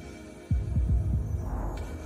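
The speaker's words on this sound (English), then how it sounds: "The heartbeat sound of the multiverse." A heartbeat sound effect in VRChat throbs in a steady, deep double-thump rhythm over a constant low hum, loud and close, with no talking.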